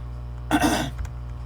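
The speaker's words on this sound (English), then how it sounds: "Excuse me for clearing my throat." A single throat clearing, a brief rough rasp close to the microphone over a low steady background hum.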